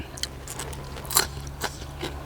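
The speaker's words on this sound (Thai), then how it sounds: "กรุบกรุบดีครับ" Close, wet crunching and chewing of a Thai salad of apple snails pounded with crisp bitter gourd, with irregular bites and one louder crunch near the middle, heard alone without talk.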